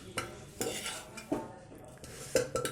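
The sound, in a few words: stirring drumstick vegetable curry in pressure cooker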